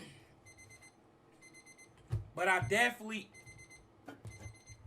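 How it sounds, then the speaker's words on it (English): An alarm clock beeps in short, evenly spaced bursts of quiet, high electronic tones in a room, pausing while someone speaks briefly, then resuming. "Oh, that's the alarm again."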